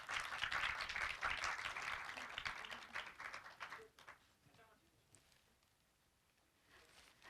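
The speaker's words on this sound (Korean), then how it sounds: "여러분 박수로 축하해 주시기 바랍니다." Audience applause at the 8th Korea Online Journalism Award ceremony, held at Korea University, rises as a dense, steady wash of clapping for about four seconds, then thins out and fades to quiet room tone.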